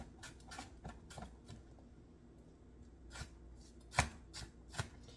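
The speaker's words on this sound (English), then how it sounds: "start dicing this up finely" A knife chops corned beef finely on a board for burgers, giving a series of soft, close taps at an uneven pace with a sharper knock near the end.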